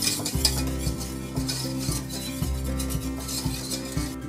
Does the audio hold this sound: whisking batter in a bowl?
yes